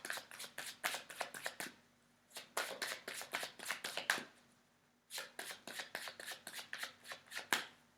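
Tarot cards are shuffled close by in three bursts of quick, crisp riffling snaps, each burst a rapid series of papery flicks separated by short pauses in a quiet room.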